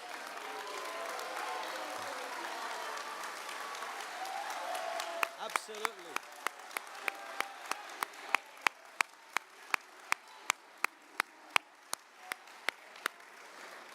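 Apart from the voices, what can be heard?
audience applause at an awards ceremony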